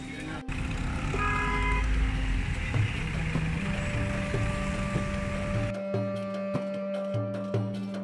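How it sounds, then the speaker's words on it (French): Dense New Delhi street traffic with steady engine rumble and a sustained car horn tone, followed by repeated short honks. The sound is continuous and moderately loud and close, with no clear speech over it. "Beaucoup de bruit, beaucoup de trafic,"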